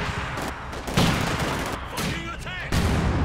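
Rapid rifle fire from a Soviet PTRS anti-tank rifle in Company of Heroes 2 during the Stalingrad mission: a quick run of sharp, loud shots layered over distant battle booms and explosions.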